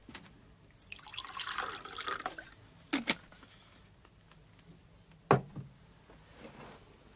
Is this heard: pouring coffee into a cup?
yes